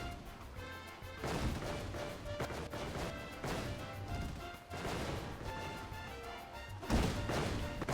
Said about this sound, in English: I think that dropped on me and exploded